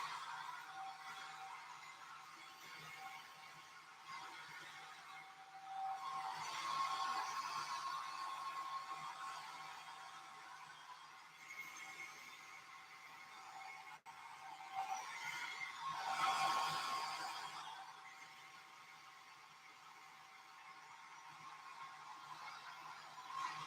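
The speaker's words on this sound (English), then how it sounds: "I've got the hair dryer on low." A steady, airy blowing hum, like a hair dryer on a low setting, swelling louder and softer as it moves, with no talking.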